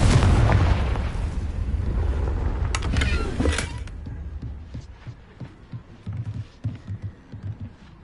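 Confringo blasting spell explosion in the Hogwarts Legacy video game, a loud roaring blast that rumbles for a few seconds and then fades into softer thumping game sounds.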